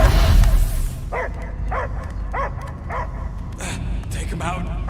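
A dog barking in the Guardians of the Galaxy video game, a run of six or seven evenly spaced yaps at mid distance over a low rumbling game ambience.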